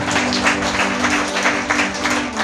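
A church congregation claps loudly and steadily, a dense continuous wash of applause filling the whole moment with no pauses, close and full.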